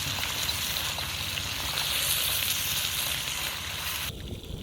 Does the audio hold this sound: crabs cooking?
yes